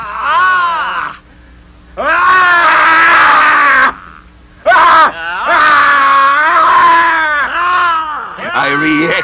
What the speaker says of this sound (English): I replied to the yells of him who clamored.